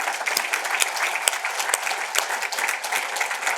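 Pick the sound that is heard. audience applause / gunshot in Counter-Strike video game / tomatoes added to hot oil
audience applause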